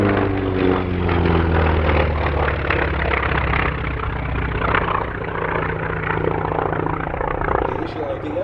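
A Grumman FM-2 Wildcat propeller fighter drones steadily through the whole stretch as it flies a display at the Duxford D-Day 75 air show, a loud, continuous engine roar with slowly shifting pitch.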